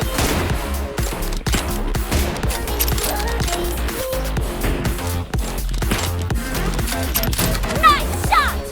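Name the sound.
gunfire in PUBG Mobile video game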